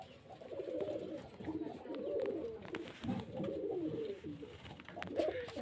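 Pigeons of fancy breeds coo in soft, repeated low throaty phrases, several birds overlapping close by and continuing throughout, with occasional light rustles and clicks in the background.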